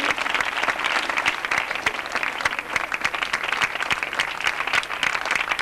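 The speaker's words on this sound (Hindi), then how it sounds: "ढेर सारी तालियां मेडल पहनाते हुए" Sustained, dense applause from an audience at a medal ceremony during an institution's anniversary event, steady and fairly loud for the whole stretch with no voices.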